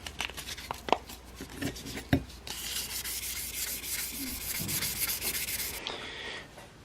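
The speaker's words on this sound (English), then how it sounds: "So now I'm going to use 600. I'll use 600 sandpaper." A forged blade is rubbed with 600-grit sandpaper in close, raspy strokes, with a few sharp knocks early on before the scraping settles into a steady, continuous sanding.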